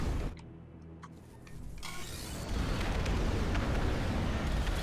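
Artillery shells bursting in Ashes of the Singularity battle, starting with scattered clicks and thuds, then building into a loud, sustained roar of overlapping explosions.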